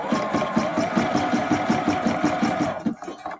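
Sewing machine running a wobble stitch for understitching a hood facing and lining, a steady rapid mechanical clatter with an even rhythmic beat, close and alone, stopping abruptly near the end.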